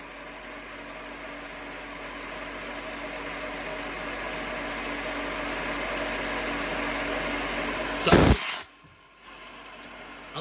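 A Sharp milling machine runs steadily while cutting slots in a 6061 aluminum disc, giving a constant mechanical hiss and whine that builds slightly, then a sharp burst near the end before the noise cuts out.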